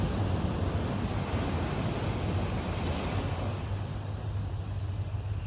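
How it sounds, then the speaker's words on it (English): Ocean waves crashing and washing ashore in a steady, dense roar of surf with some wind rumble, continuous and fairly loud with no voices. "Let the ocean waves crash."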